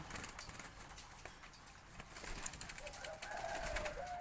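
A large dove (nok khao yai) gives soft, low coos in its cage, faint and muffled beneath a busy backdrop of other birds' chirps and outdoor rustle, with the deeper cooing phrases clearer toward the end.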